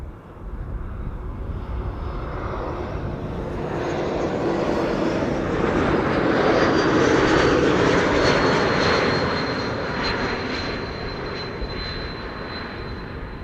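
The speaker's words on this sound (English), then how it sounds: "It is arriving from Brussels. It is an E2 Embraer 195." A KLM Embraer E195-E2 airliner, inbound from Brussels, arrives on the runway with a steady, loud broadband jet roar that swells toward the middle and then eases slightly, with no voices over it.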